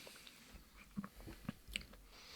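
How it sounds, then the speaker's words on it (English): Someone chews a Christmas pudding sandwich close to the mic, with a few soft, wet bites at an uneven pace and no talking. "So I'm chewing."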